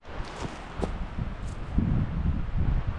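Steady outdoor wind at a campsite before a thunderstorm, buffeting the microphone, a constant broadband rush with low rumbling gusts, plus faint rustling and a few soft thuds.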